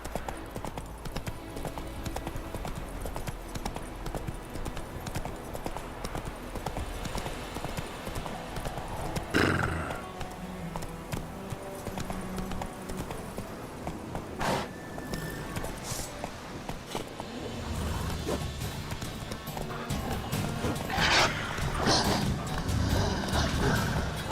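Hoofbeats of the horse Roach in The Witcher 3 clip-clop in a steady gallop rhythm, with occasional whinnies and a voice talking over it at times.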